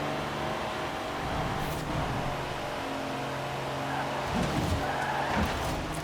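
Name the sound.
race cars speeding and skidding in video game Forza Horizon 4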